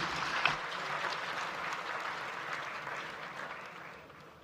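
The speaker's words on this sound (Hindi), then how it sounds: "आप सभी की तालियों की गूंज एक बार होनी चाहिए" Audience applause for Rajasthan Chief Minister Bhajan Lal Sharma at a political rally, a dense, steady wash of many hands clapping for several seconds before slowly thinning toward the end.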